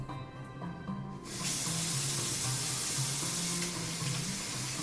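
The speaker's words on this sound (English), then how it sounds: "And we drain the noodles in this one." Paldo Jjol Bibim Men cold instant noodles drained in a kitchen sink, a sudden steady rush of pouring water that starts partway through over a low background hum, with no talking.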